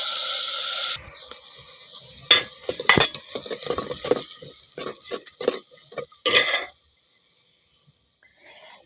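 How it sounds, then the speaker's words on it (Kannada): Tamarind juice poured into a pot and stirred with a spoon, close and fairly loud: a brief splash, then scraping and clinking strokes that come in irregular bursts and stop near the end. "ನಾನೀಗ ಹುಣಸೆಹಣ್ಣಿನ ರಸನ ಹಾಕಕತ್ತೀನಿ."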